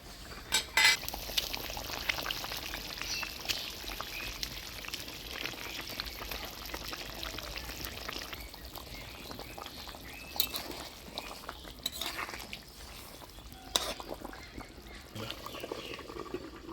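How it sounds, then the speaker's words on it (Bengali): Fried catla fish go into a boiling village-style curry with potato and okra and are stirred, with close metal utensil scrapes and clinks against the pot over a steady bubbling background. "ঝোলে বলক এসে গেছে, এবার ভাজে রাখা মাছগুলো ঝোলে দিয়ে দিলাম।"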